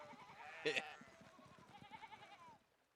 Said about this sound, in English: Oh, the sheep there.